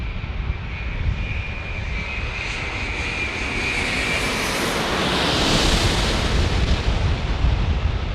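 British Airways airliner passing low over a busy San Diego airport at night, a loud sustained jet roar that swells and builds toward the end, with a high whining engine tone early on, no voices.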